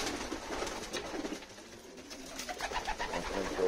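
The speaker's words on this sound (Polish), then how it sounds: "Tutaj będą bardzo dobre gołębki." Domestic pigeons in a loft coo repeatedly, a soft throaty warble rising and falling at close range over faint background rustling, with no talking.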